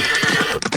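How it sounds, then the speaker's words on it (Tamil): A horse whinnies loudly and close by while riders urge the horses onward, a short wavering neigh followed by brief hoof-like thuds, with no talking. "குதிரைகளை இன்னும் வேகமாக செலுத்துங்கள்"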